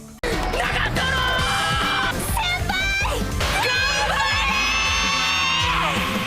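Excited screaming and whooping from a couple of voices, loud and close, with high shrieks and cheers running almost nonstop.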